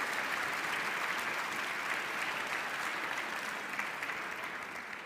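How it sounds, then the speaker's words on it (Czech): A gala audience at the Obecní dům in Prague applauds in steady, dense clapping that holds strong throughout and tapers slightly at the end. "A to si zaslouží potlesk."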